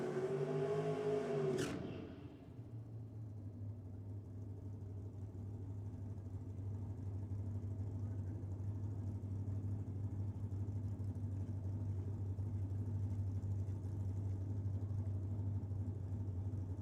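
A drag racing car at Sydney Dragway revs hard in a short burst, then settles into a steady low engine rumble that carries on to the end, with no voices heard.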